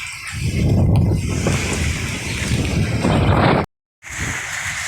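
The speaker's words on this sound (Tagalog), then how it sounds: "Tsaka yung hangin, napakalakas." Strong typhoon wind (Typhoon Paeng) roars and buffets loudly and steadily, with a brief dropout near the end before the gusting resumes.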